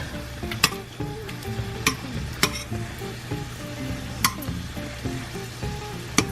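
Shrimp seasoned with Cajun spice sizzle steadily in a pan, a constant close frying hiss broken by occasional sharp taps and scrapes of a utensil stirring and flipping.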